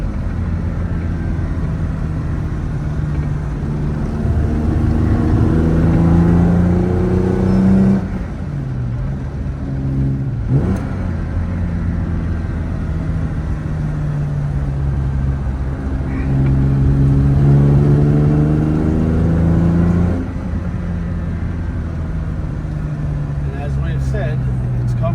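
A 1970 Jaguar E-type 4.2-litre Series 2 coupe heard from the passenger seat on twisty back roads. The engine's loud harmonic drone rises under acceleration, drops sharply at two gear changes and climbs again.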